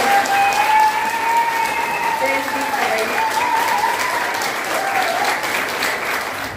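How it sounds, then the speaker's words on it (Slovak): An audience claps after a stage performance at a Roma majáles celebration, sustained and loud for nearly seven seconds, with a sustained musical tone running underneath. "Prosím ešte raz potlesk."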